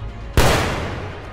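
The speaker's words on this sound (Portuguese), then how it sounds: "dando um tiro no Batman." One sharp, loud gunshot from the 2008 film The Dark Knight cracks out suddenly after a low rumble and then rings off in a fading echoing tail.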